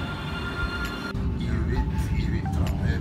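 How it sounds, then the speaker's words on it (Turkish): A crowded tram pulls in on a rail line, its rumbling wheels and rail noise rising and growing louder over the last two seconds, with faint tonal squeals. "tramvayımız geliyor"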